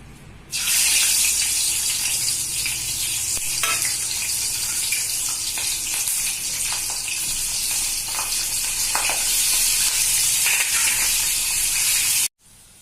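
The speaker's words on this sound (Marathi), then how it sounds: "आता आपण तळून घेऊ" Slit green chillies frying in hot oil for vada pav, a loud, steady close-up sizzle and crackle that runs unbroken for several seconds before cutting off abruptly, with no talking.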